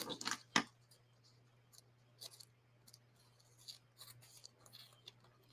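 Scissors cutting card for a handmade Christmas card, a few close crisp snips at first, then fainter scattered snipping and rustling over a low steady hum.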